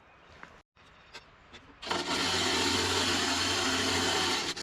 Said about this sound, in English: Now we lower the conveyor all the way to the ground.